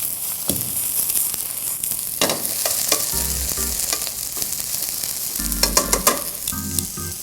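Olive oil sizzles in a pan for creamed spinach with a steady crackling hiss. Sharp spits and stirring clinks rise over it, close and fairly loud, and no one speaks.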